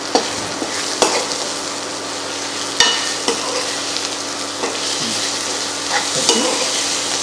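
Chicken curry being stirred in a pan after turmeric and ginger paste go in, a steady sizzle broken by sharp spoon scrapes and knocks against the metal every second or so, close and loud.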